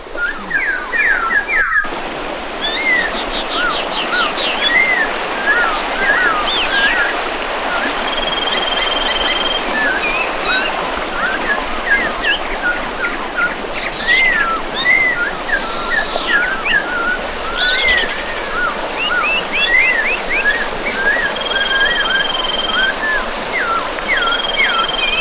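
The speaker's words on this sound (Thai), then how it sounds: "เสียงน้ำไหล" Clear water flows steadily in a natural stream in Laos, with a constant rushing wash. Frequent bird chirps and whistles ring out over the water throughout.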